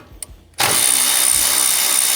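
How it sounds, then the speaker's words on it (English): A power tool spins up abruptly and runs at a steady, loud whir while removing a 12mm bolt that holds a brake line on a vehicle's brake caliper, after a brief quiet moment with a faint click. "what I'm going to do is remove this 12mm bolt holding on this brake line."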